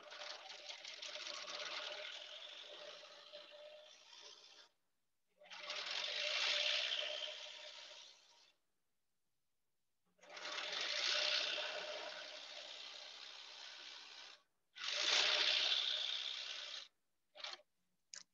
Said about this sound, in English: I am going to backstitch at the beginning and at the end